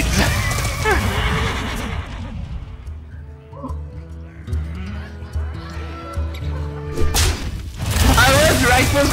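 A Dreadsteed horse in a Hearthstone Haunted Carousel Tavern Brawl gives loud, close whinnies at the start and again at the end, with a quieter stretch of game effects and low booms between them.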